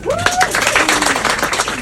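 A school audience bursts into clapping, a dense patter of hand claps with some voices mixed in, fairly loud and close.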